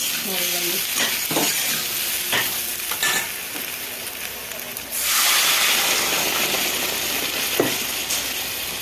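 Food sizzles and hisses steadily in a hot pan, with occasional scraping stirs and a louder burst of frying partway through.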